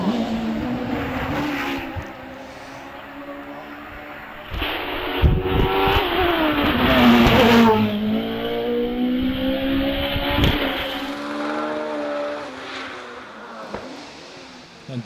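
Race cars at the Doune hillclimb in the British Hillclimb Championship rev hard and accelerate through gear changes, engines rising and falling at middle distance while a commentator talks over them.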